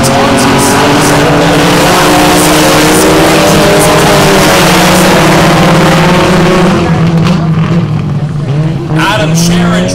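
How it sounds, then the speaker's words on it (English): Mini stock four-cylinder race cars at Valley Raceway roar loudly through a feature race, several engines droning and rising together at close range in a dense, continuous wall of sound, with a commentator talking over them. "Time to go mini stock racing at Valley Raceway."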